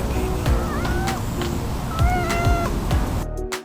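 A cat meows a few times up close, drawn-out rising cries over soft background rustling and faint household noise.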